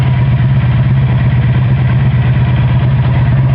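A 1984 Honda Sabre V45 motorcycle engine idles close by in a steady, even, throbbing rumble with no voices.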